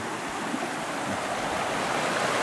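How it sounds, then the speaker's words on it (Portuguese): A crystal-clear waterfall rushes in a steady, broad, even roar that stays close and continuous throughout, with no voices over it. "Cachoeira cristalina?"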